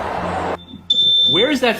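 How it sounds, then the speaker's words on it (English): An apartment smoke detector lets out a sharp, loud high-pitched beep that holds for about half a second, with someone talking just before it and another voice speaking over its end. "Where is your alarm in the apartment? Right outside my bathroom door."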